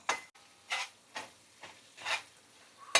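A spoon scrapes and stirs black pepper into saltfish run dung in a pan, five or six soft scraping strokes spaced about half a second apart, close up over a faint sizzle.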